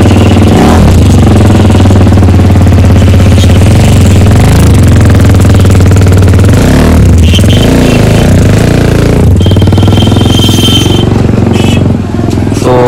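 A BMW 1000 RR motorcycle engine runs loud and close at a busy Kolkata street market, a steady deep rumble that swells into a couple of brief revs midway through.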